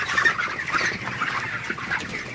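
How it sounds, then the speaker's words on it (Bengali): Broiler chickens on their thirty-first day cluck and murmur at night after being given water and feed, a steady close chorus of soft calls from the flock. "তো মুরগিগুলাকে রাতের বেলায় পানি এবং ফিড দিয়ে দেওয়া হয়েছে।"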